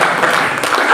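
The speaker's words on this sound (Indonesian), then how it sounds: "Berikan tepuk tangan." A congregation at a fasting prayer service on Gunung Salak, Bogor, breaks into applause: a brief burst of many hands clapping close together, loud and busy.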